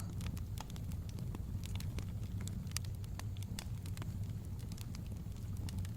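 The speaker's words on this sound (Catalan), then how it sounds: "Fixa't com les flames cremen els trossos de paper, un a un." Fire in a home fireplace burning torn scraps of paper gives a steady low roar with scattered sharp crackles and pops throughout, continuous and fairly close.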